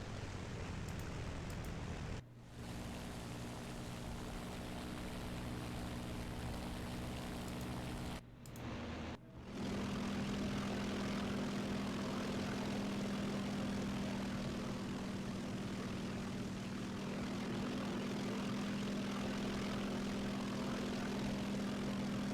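Spitfire piston engine droning in the War Thunder flight game, a continuous steady propeller roar with a couple of brief dropouts before the tone firms up and hums evenly on.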